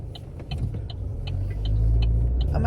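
A car engine idles and runs from inside the cabin, a low steady rumble that grows slightly louder, with small clicks and ticks over it and no talking.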